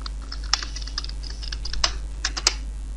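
Fast typing on a computer keyboard while drafting in AutoCAD, a steady run of light clicks with a few sharper key strikes, close and clear with no speech.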